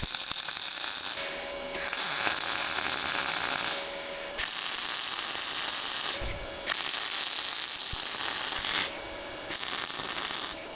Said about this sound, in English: Let's cut off a chunk of that and weld it to it.